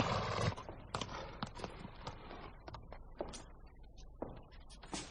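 Hooves clop irregularly on hard ground nearby, mixed with shuffling, creaks and knocks as a horse comes to a stop.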